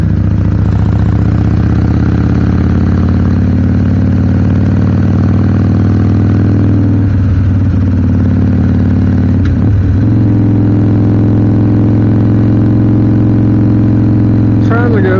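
Harley-Davidson Sportster 1200 motorcycle idling and cruising gently on a country road, its steady low exhaust rumble continuous and close throughout, with a brief dip near the middle; a rider speaks faintly over the engine.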